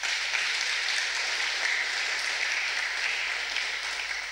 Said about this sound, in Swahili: Tuwapigieni makofi.